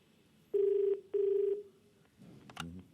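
A telephone call is dialed: two long, steady ringback tones sound clearly with a short gap between them, followed by a brief click and rustle as the line picks up.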